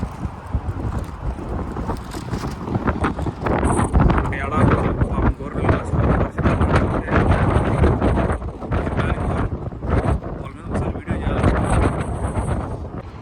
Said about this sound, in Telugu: అంతగా ఉంది దుమ్ము గాలి.